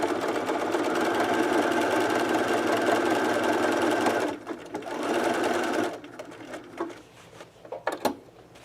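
A sewing machine stitches fabric with a steady, loud motor whir that runs continuously for about four seconds, breaks briefly, resumes, then stops, leaving scattered handling clicks and quieter clatter.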